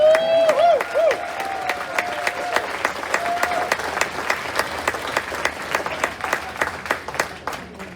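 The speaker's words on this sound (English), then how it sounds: "Give a big round of applause to the big one" Crowd applause aboard a cruise ship, steady many-handed clapping with sharp individual claps standing out, a voice calling over the first seconds before the applause carries on alone.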